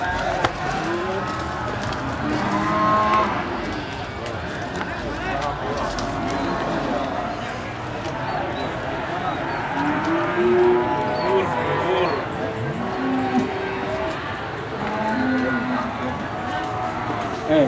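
Cattle low now and then amid the steady bustle of the Wagenan cow market in Java, with constant crowd chatter and nearby voices talking over the animals.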